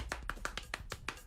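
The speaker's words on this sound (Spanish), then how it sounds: "Palmas percutando parte de nuestro cuerpo." Hands slapping body parts in body percussion, shoulder, elbow, hands, thighs, chest, heard as six crisp evenly spaced slaps and claps in a steady rhythm, close and alone without talk.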